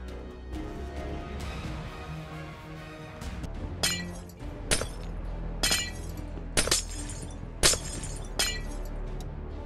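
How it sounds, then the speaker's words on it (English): Glass panes break in the Minecraft video game, several crisp shattering crashes repeating at roughly one-second intervals over a low background music bed. "Okay, let's break this glass."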